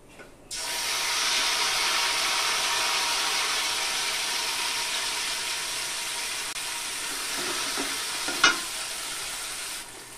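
Mixed spice paste hits hot oil with nigella seeds for a rui fish curry, bursting into a loud, steady close sizzle that holds throughout, with a brief clink of a utensil near the end.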